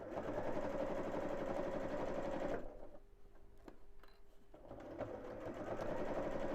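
A domestic sewing machine stitches fabric in a steady, fast mechanical whir, pausing briefly in the middle before running again, close and clear with no voices.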